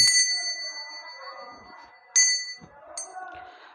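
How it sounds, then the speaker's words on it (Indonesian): A bell is struck twice, each clear metallic ding ringing out and slowly fading, with faint background noise between strikes. "Dan dilanjutkan dengan tanda lonceng berbunyi."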